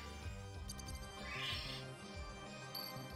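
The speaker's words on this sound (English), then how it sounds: "Summon the cow." A summoned cow in Castlevania: Symphony of the Night, heard as a bleating animal call over dense game music, lasting a few seconds at moderate level.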